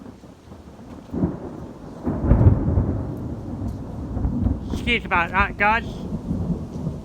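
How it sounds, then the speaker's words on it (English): Thunder rumbles over a small rural railway station in East Sussex, swelling into a loud, rolling roll with rain in the background, while someone talks briefly over it. "that was the sound of thunder."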